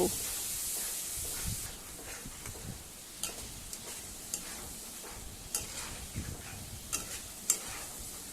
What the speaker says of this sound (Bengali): এবারে অল্প একটু জল দিয়ে মশলাটাকে 2 মিনিটের জন্য লো ফ্লেমে খুব ভালো করে কষিয়ে নেব।